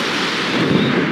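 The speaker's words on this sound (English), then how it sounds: "Alright, time to fire some missiles." Missiles fire in the video game Forts as a dense, loud roaring whoosh with a rumbling low end, continuous for about a second without talk.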